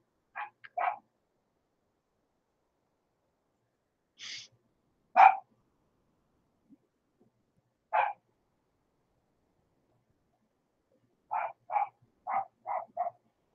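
A dog barks in short separate bursts, a pair at the start, single barks in the middle and a quick run of five or six near the end, clear and fairly close with quiet gaps between.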